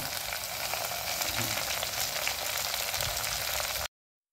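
Takway and kangkong adobo bubbling in a covered pan, a steady bright sizzle and simmer for about four seconds before cutting to silence, with no talking.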